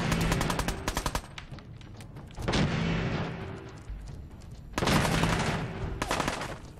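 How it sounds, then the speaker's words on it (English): Bursts of pipe pistol gunfire in Fallout 4 crack out in three loud volleys, each followed by a lingering rumbling echo, with no talking. "There we go. Pipe pistol."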